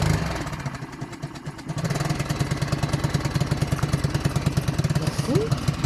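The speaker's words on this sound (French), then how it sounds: "là c'est le moteur" Steady engine running beside a boat, a rapid regular chugging pulse that stays loud and close throughout, with brief voices over it.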